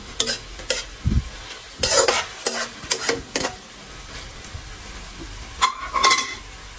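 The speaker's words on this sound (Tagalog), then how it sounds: "haluin po muna natin bago natin ilagay yung ating gulay" Pancit sauce is stirred in a pan, with a series of distinct scraping and clattering utensil strokes over a faint background sizzle, close and fairly loud.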